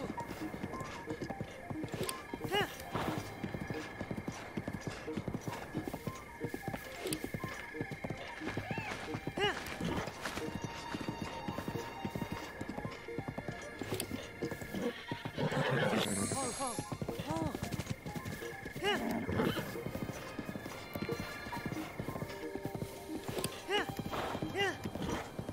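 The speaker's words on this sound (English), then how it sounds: "Man, we're gonna have max bond with this horse by the time we get to the stable." Horse hooves clip-clopping steadily with occasional neighs in the video game Breath of the Wild, mixed with game music and ambient effects under ongoing talk.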